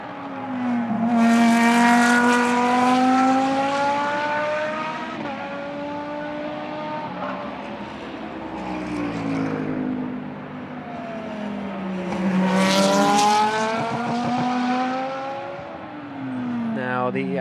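GT race car in Blancpain Sprint Series practice at Moscow howls into turn 1, revving up through gears, easing off, then roaring again on a second loud pass, with a commentator's voice faintly beneath.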